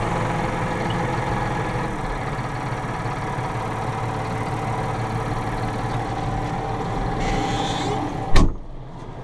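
A Massey Ferguson 5610 tractor engine runs at a steady idle with the cab door open, a constant close drone that ends in a sharp click, after which the sound drops away.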